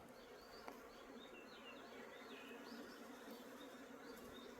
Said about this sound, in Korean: 꽃 때문에 벌이 엄청 많네